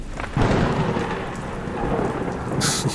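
Heavy rain pours steadily and close by, a dense continuous hiss with rumbling thunder beneath, and a sharper burst of downpour near the end.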